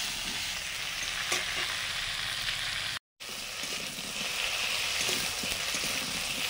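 Vegetables fry in a pan with a steady, close sizzle and occasional stirring scrapes, briefly cut by a short gap of silence midway, for a simple Bengali fish curry lunch.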